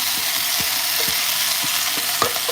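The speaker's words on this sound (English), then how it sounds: "we're gonna go ahead and toss our shrimp back in here" Shrimp tossed back into a frying pan with peppers, giving a constant hissing sizzle punctuated by several quick knocks and scrapes as the food is moved around, close and fairly loud, no speech.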